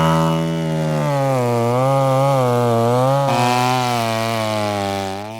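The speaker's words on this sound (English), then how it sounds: "the chainsaw is used as its tip cuts down at an angle into the roots" A chainsaw runs close and loud, its engine droning steadily with a slight rising and falling pitch as the tip cuts at an angle down into tree roots, no voices over it.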